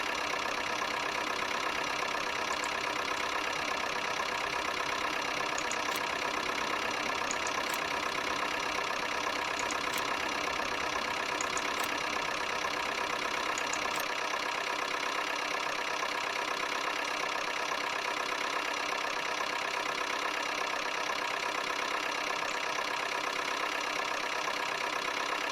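A Major tractor engine idles steadily in a farming simulation set at Meadow Grove, a continuous mid-pitched rumble with a faint whine, heard alone and without speech throughout.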